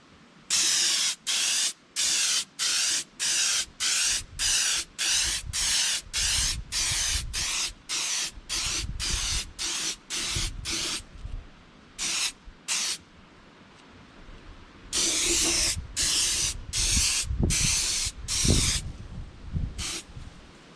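Spray gun laying a final heavier gloss coat onto a polished-stone resin cast of a female torso: a long series of loud, evenly spaced hissing bursts, then a short pause and several longer sprays, no voices.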